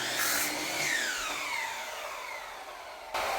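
Power tool mitering the edge of a wooden support piece for a mini greenhouse frame, a loud steady whine with shifting pitch that runs almost continuously, briefly dropping off near the end before restarting.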